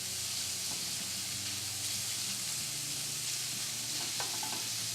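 Bacon frying in a pan as its fat renders, a dense continuous sizzle with crackling pops, close and steady, no talking.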